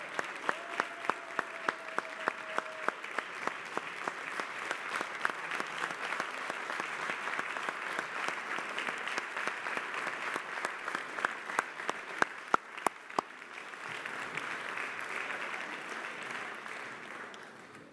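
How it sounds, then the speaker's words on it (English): Applause at a New York City Council meeting honors retiring council members: a sustained round of clapping with some sharp individual claps standing out, a brief tone early on, then the clapping thins and fades near the end. "One big final round of applause for these amazing women"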